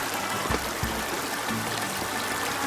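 A mountain stream running over stones at a cold crossing point, a steady broadband rush of flowing water with occasional low splashes and gurgles, continuous and fairly close.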